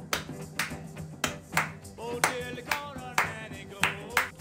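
Audience in a lecture hall clapping out a well-known rock and roll beat together, a syncopated pattern of sharp group claps repeating through the clip, with some overlapping musical tones underneath.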